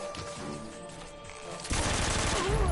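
AK rifle fire in Metal Gear Solid 3, a burst of rapid automatic shots that starts suddenly partway through after quieter game sounds, loud and dense.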